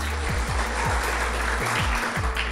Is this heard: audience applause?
yes